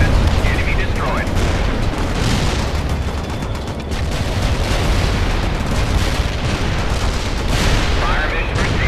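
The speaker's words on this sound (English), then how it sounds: "Heavy artillery barrage inbound." Heavy artillery barrage in the video game World in Conflict, a dense, continuous roar of loud booming impacts and rumbling explosions filling the whole stretch, with game voices faintly over the din.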